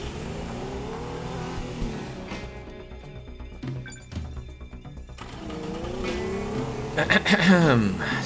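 Car engine in the video game Teardown revving up and surging under continuous gameplay noise, with a harsh burst of acceleration near the end.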